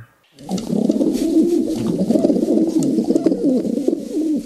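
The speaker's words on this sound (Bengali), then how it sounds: "বাক বাকুম পায়রা গুলো মিষ্টি সুরে গায়" Pigeons coo in a steady, rolling, throaty murmur that is loud and close and keeps going throughout, with no other sound over it.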